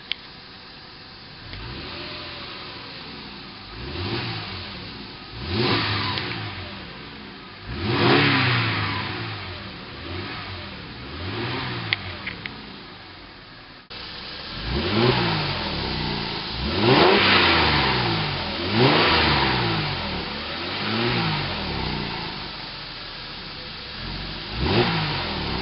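2011 Mercedes-Benz ML350 4MATIC engine revved repeatedly from idle, a series of close, rising and falling blips that swell and settle, with no talking.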